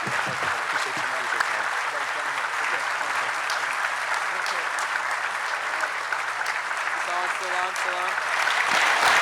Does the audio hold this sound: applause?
yes